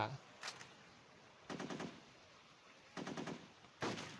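Short automatic bursts of gunfire in the mobile shooter Modern Sniper, four quick rattling volleys separated by quiet gaps, faint and thin.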